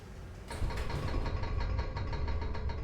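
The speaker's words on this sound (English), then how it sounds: "This elevator better work." A steady mechanical engine-like hum from an elevator running in a video game, starting abruptly after a brief quiet moment and continuing as a close, even drone with faint rattling.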